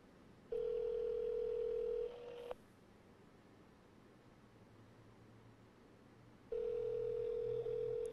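An outgoing call to a minister's mobile phone in Trinidad and Tobago rings back with two sustained tones and a soft hissing gap between them, with nobody speaking.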